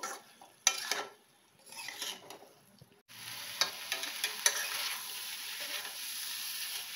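Bata fish curry with potato, pointed gourd and drumstick sautéing in a pan after salt goes in, steady sizzling frying with intermittent clinks and scrapes of a spoon stirring, louder after a brief lull.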